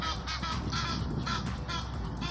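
Pigeons being scared off, with bird calls and fluttering bursts repeating over a steady loud background for a couple of seconds, no talk.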